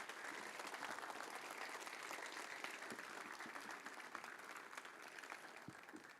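Faint, distant applause from an audience at a sculpture reveal event at a sports field, a steady wash of many hands clapping continuously without pause.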